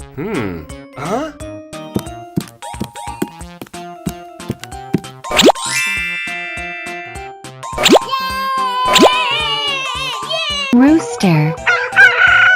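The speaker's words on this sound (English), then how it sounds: "Rooster." A cartoon rooster crows loudly among playful music and jingling effects, its drawn-out cock-a-doodle-doo rising clearly above the background.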